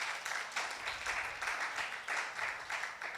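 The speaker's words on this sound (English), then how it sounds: "Please give a bigger round of applause to our chairman." An audience at a tech forum applauds the chairman, a fairly quiet, moderate wave of clapping that pulses unevenly in bursts from a mid-distance crowd.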